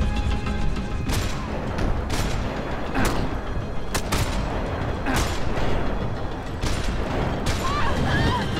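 Rifle shots in the shooter game Max Payne 3, a series of sharp, loud cracks spaced about a second apart over a busy background of game noise and voices.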